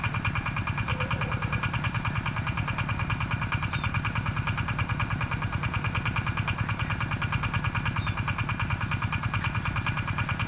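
A rice farm machine's engine runs steadily nearby, a loud, even mechanical drone with a fast rhythmic chug that never lets up from start to finish.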